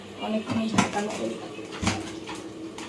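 A metal spoon scrapes and clanks against a cooking pot of cumin rice, a few distinct knocks and scrapes at close range, with a person speaking over the stirring.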